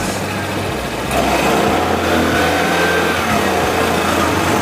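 A Vespa Primavera 150 scooter engine revs up after a short idle, its loud motor drone rising and holding steady over the rest of the clip.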